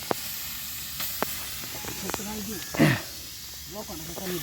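A brief burst of sizzling from onions hitting a hot iron griddle, rising sharply then fading, with clattering and faint voices around it.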